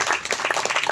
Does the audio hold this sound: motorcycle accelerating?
no